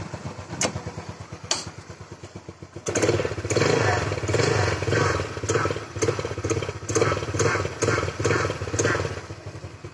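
A Passion motorcycle engine runs at a low idle with its carburetor tuned down. A few sharp pops are followed by a steady, loud, close chug of rhythmic firing pulses that stays even until the end.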